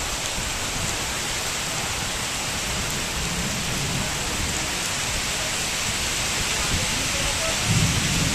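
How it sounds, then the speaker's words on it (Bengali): Heavy rain pouring down at a railway platform, a dense, steady hiss of falling water that stays loud and even throughout, with a faint low rumble near the end. "এদিকে ততক্ষণে ভালোই বৃষ্টি শুরু হয়ে গেছে"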